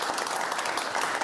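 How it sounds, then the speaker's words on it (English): A studio audience claps for Jonathan Sacerdoti, a brief, loud, even burst of applause with no talk over it. "big round of applause, please, Jonathan Sacerdoti"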